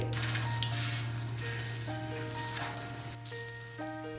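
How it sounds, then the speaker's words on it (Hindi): Mooli paratha frying in oil on a flat tawa gives off a steady, close, loud sizzle that runs without a break, with a light melody of sustained tones playing over it. "तवे पे तेल और फिर तेल में डाले जाते हैं ये पराठे सेकने के लिए"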